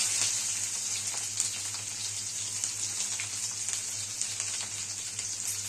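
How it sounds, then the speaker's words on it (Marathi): Onion fries in a pan with mustard seeds and cumin, giving a soft, even sizzle that holds steady throughout with faint crackles. No one speaks. "आता यात कांदा भाजून घेऊया."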